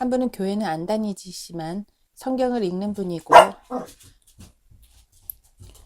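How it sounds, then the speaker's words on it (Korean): A puppy barks indoors once, sharp and close, while someone speaks Korean before and after it in a quiet room. "우리 강아지가 들어와가지고 너무 정신사납겠는데."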